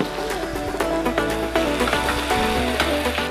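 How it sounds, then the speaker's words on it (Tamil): Shallots, curry leaves and dried red chillies frying in groundnut oil for a spicy mutton offal dish, a loud, steady crackling sizzle with sharp spits and pops throughout, close up and with no talk over it. "கடலெண்ணெய் ஊற்றுறோம் வெங்காயம் சின்ன வெங்காயம் போட்டுக்கலாம் கருவேப்பிலை வரமிளகாய்"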